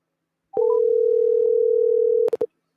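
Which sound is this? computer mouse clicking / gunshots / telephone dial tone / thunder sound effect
telephone dial tone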